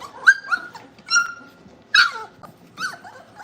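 Boerboel puppies at feeding time give high whimpering whines and short yelping barks, several separate cries close by with quiet gaps between them.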